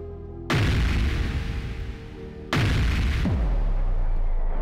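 Fireworks explode in the moon-farming video game: two sudden, loud booming bursts, each followed by a long rumbling, crackling decay, with no talking.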